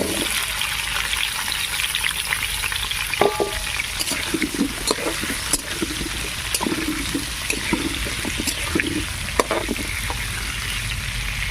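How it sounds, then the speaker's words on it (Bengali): Cut potatoes dropped into hot oil for a Bengali bottle gourd and lentil-dumpling curry, frying with a steady, loud, close sizzle and crackle that runs throughout with occasional sharper pops and stirring sounds, no voices. "এখানে আমার তেলটা গরম হয়ে গেছে, আমি আবার আলুটা দিয়ে দিচ্ছি।"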